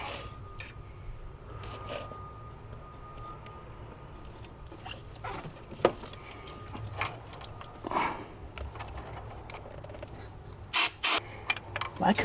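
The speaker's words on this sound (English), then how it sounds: "Let me blow some air out of there" Compressed air blasted through intercooler plumbing on a 6.4 Ford F250 being swapped to a 12-valve Cummins, clearing out metal shavings: a couple of short, sharp hissing bursts near the end after a stretch of quiet shop background with faint clicks.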